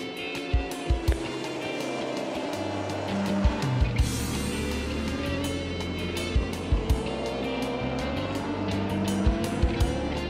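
Kawasaki racing motorcycles at Oulton Park during a British superbike race, teammates battling closely; a sustained high engine roar with repeated sharp gearshift pops and throttle blips as bikes pass, no voices.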